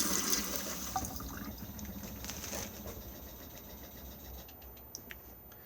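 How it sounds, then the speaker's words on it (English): Toilet flushing inside a Mobilvetta K-Yacht 85 motorhome, a faint rushing of water that peaks early then slowly fades with light trickling and a few small clicks. "To flush the toilet, just press the blue button just here"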